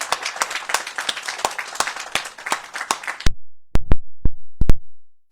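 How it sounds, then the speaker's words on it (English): Outdoor audience at a fire station groundbreaking ceremony applauds in a dense burst of close, sharp claps. The clapping stops abruptly, and a few loud, isolated claps follow. "I'd like to give them all a round of applause for the outstanding work they've been doing."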